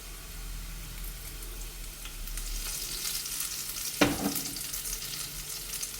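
Onions frying in a pan with turmeric and salt for a sweet corn paratha filling, giving a soft, steady sizzle with one sharp clatter from a utensil partway through.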